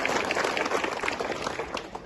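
Guests arriving at a school event in Bangladesh are welcomed with a brief burst of dense, continuous applause from a gathered crowd, close and steady throughout.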